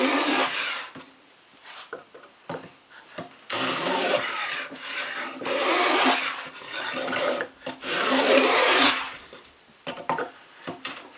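Hand plane cutting a groove along a wooden board held in a vise, repeated rasping strokes in a steady back-and-forth rhythm, close and fairly loud, with short pauses between passes.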